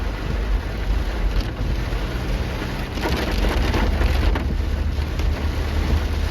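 Steady rain pours down over forest in Kodagu, near Ponnampet and Nagarahole, as a continuous broadband hiss with gusts of wind buffeting the microphone throughout.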